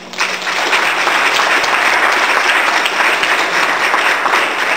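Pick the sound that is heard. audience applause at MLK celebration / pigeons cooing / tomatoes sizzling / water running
audience applause at MLK celebration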